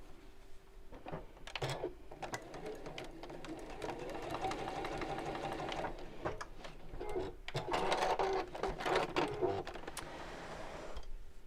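A sewing machine stitches across the ends of a fabric tube, its needle chattering steadily close by for several seconds between brief pauses, with faint handling noises and no talk.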